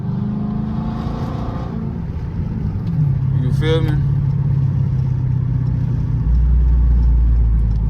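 A straight piped Chrysler 300C with a 5.7 engine rumbles and revs at night, heard through a partly open window from inside the car, with someone talking over the low exhaust drone early on before it swells louder.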